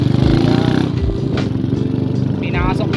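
A motorcycle engine chugs and revs at close range on a habal-habal ride near Lake Mapanuepe in San Marcelino, Zambales, its steady throb running under people chatting and calling out.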